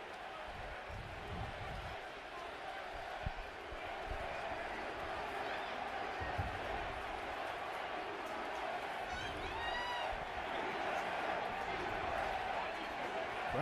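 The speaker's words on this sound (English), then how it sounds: "Crowd chanting USA" A stadium crowd roars steadily at an American football game just before kickoff, a faint, distant and continuous wash of chanting and cheering with no clear individual voices.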